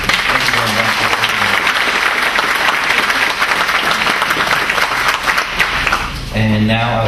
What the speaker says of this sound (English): And if we could give everybody one last applause,